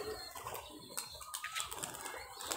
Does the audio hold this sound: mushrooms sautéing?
no